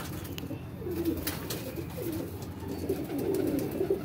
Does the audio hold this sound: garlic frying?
no